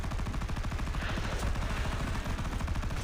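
A tank machine gun on a Leopard 2K firing in War Thunder Mobile: a continuous, rapid stream of loud, close shots that hammers on without pause.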